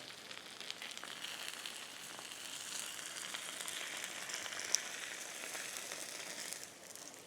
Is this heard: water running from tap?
no